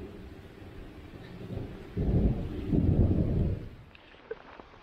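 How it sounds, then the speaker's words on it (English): Thunderstorm on Long Pond Mountain in the St Regis Canoe Wilderness: a low, distant rumble of thunder swells midway over a background of rain and wind, then fades away. "we hunkered down for a bad thunderstorm that came right over the top of us"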